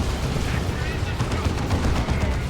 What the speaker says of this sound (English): That's a Zinchian shrine shooting out doom bolts.